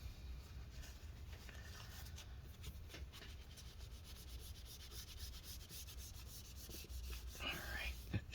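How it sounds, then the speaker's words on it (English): Excess epoxy being wiped off during a laptop hinge repair, a faint, steady close rubbing with soft scratchy strokes throughout, quiet with no clear talk. "we gotta wipe all this stuff excess out"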